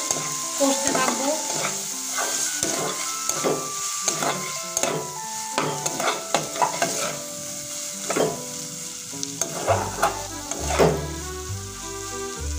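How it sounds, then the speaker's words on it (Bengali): Ground spices including chili powder sizzle in a pan while being stirred, with repeated spatula scrapes and knocks in an uneven rhythm over a continuous frying hiss. "এবার একটু কষতে থাকবো।"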